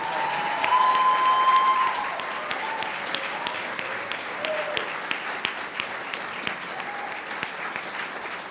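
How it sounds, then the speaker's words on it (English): A crowd at a school business meeting gives a sustained round of applause for elementary school students, steady clapping that swells at first, then settles and continues with individual claps standing out. "Another round of applause for our elementary school students"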